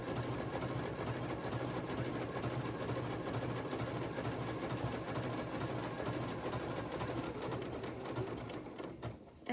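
A sewing machine stitches knit fabric along a curve while sewing a bra, with a steady rapid mechanical whir and needle chatter running close and continuously, easing off slightly at the end.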